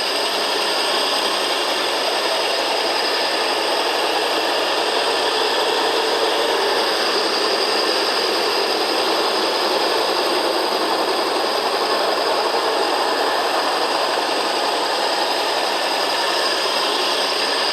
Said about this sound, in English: And now you're grinding.